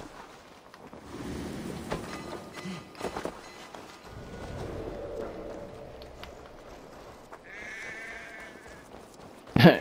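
Sheep bleat a few times in the video game Assassin's Creed Valhalla against soft background ambience, fairly faint, with a sharp louder noise at the very end.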